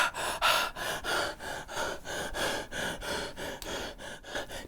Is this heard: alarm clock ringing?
no